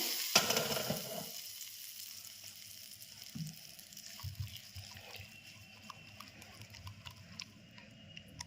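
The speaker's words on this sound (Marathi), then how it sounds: "हे बघा यावरती फोडणी घालायची आहे" Hot cumin and asafoetida tempering poured over bathua greens, a sharp burst of sizzling that quickly fades into quieter crackles and faint clinks.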